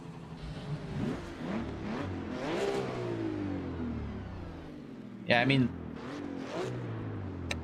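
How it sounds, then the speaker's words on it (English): Turbocharged race car engine in a racing video game, revving and rising and falling in pitch through repeated accelerations, with a sharp louder burst near the end, heard under ongoing casual talk. "that's how turbo engines sound"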